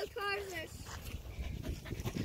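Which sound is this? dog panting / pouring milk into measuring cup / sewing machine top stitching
dog panting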